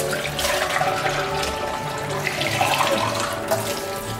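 Water pours steadily in a kitchen while cooking, a continuous splashing gush that runs loud and close for several seconds without pause.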